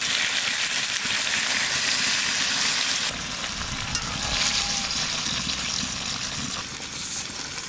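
Big crab curry frying in a pan as water is poured in: steady loud sizzling that swells into a harsher, bubbling hiss about midway, with no one talking.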